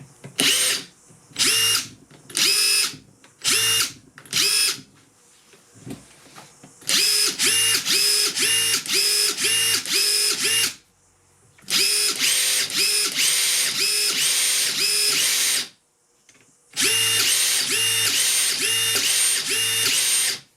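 Makita 18V and 40V impact drivers, including a TD172D, rattle in bursts driving 100mm batten screws: several short hammering runs, then three long sustained drives with pauses between, loud and close; the 40V sounds gruntier.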